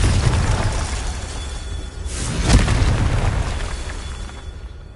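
A Confringo spell blast in the video game Hogwarts Legacy gives a broad, rumbling boom that swells near the middle of a dense, noisy backdrop of game sound, with no speech.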